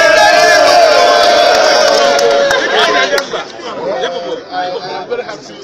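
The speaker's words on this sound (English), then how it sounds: "I am very happy to be back and received by this tumultuous crowd" A tumultuous crowd of party supporters greets a returning Igbo leader, a dense roar of chatter and cheering that stays loud and steady before breaking into uneven surging waves of voices.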